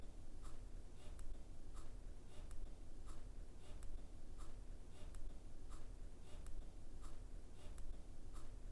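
A Eureka fountain pen with a titanium nib writes on paper, giving a steady, faint scratch broken by short, evenly spaced strokes, close up, with no voices.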